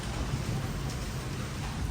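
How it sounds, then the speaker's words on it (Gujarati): Rain falls during a summer storm with lightning, a faint, steady wash of hiss and patter heard from a distance, unbroken and without distinct drops. "આવો કંઈક વરસાદ આવે છે"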